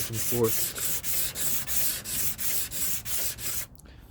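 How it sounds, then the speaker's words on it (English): Sandpaper wrapped around a wooden block is rubbed back and forth during rust repair on a Vanagon hatch. About nine steady, even scraping strokes sound close and loud, then stop. "I have a piece of wood and or a block of wood with a sandpaper around it, and I'm gonna go back and forth"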